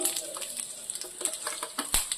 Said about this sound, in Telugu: రెండు ఎండుమిర్చి వేసుకోవాలండి అలాగే కొంచెం శనగపప్పు